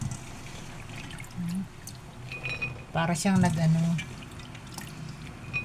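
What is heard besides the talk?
rinsing raw peanuts in water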